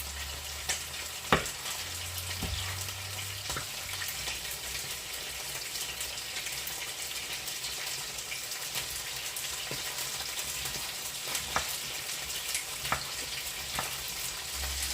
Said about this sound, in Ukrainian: М'ясо нам потрібно підрумянити, щоб воно було не просто побіліло, а щоб воно підрумянило.